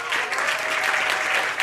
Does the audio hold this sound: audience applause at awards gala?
yes